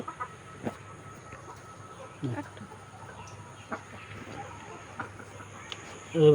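Two paralysed layer hens cluck faintly and sporadically in a quiet space, soft scattered calls with a louder rustle right at the end.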